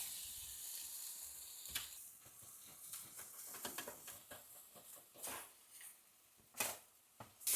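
Egg-and-milk-dipped bread for French toast sizzles softly in a pan, a faint steady hiss with scattered crackles and a few louder bursts.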